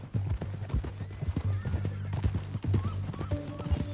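Horse hooves clip-clopping in a steady rhythm close by in Red Dead Redemption 2, with a whinny, while people talk over the sound.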